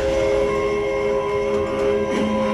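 A train horn blares loud and close at a level crossing, holding steady sustained tones over the heavy rumble of a passing train, with no voices.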